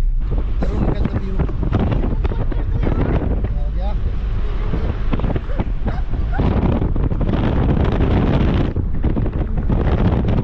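Cold mountain air buffets through an open car window on a drive near Shillong in Meghalaya, a loud steady wind roar filling the whole stretch with broadband rumble, while people talk over it.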